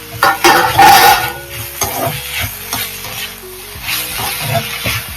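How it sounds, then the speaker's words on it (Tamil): Ginger, garlic and two large tomatoes sautéing in a pan, with a loud burst of sizzling and stirring scrapes early on, then a steady crackle broken by spoon knocks against the pan. "2 தக்காளி, பெரிய தக்காளி போட்டு நல்லா வதக்கலாம்."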